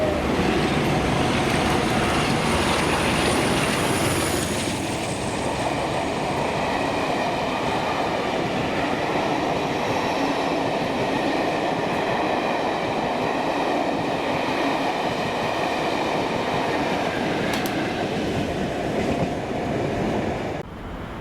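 Locomotive 47805 leads a Hereford-bound return charter past Slateford in Scotland. The train's rumble and clattering wheels fill the whole stretch, with a faint metallic squeal, steady and fairly close.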